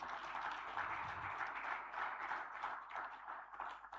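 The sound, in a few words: warm applause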